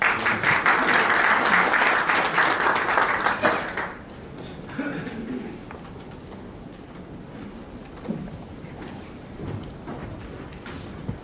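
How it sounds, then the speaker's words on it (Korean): An audience at a manufacturing forum gives loud, dense applause to welcome a university vice president, lasting about four seconds before dropping off to quieter room sound and a voice. "큰 박수로 맞으시기 바랍니다"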